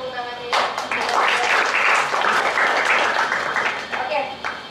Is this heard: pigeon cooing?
no